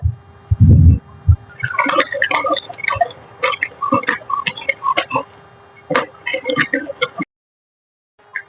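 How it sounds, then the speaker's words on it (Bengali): Sugar being crushed to powder in a mortar with a pestle, giving a run of sharp, irregular pounding and grinding knocks at close range after a brief low thump, then stopping into silence. "হামানদিস্তার মধ্যে কিন্তু চিনিটা নিয়ে নিচ্ছি।"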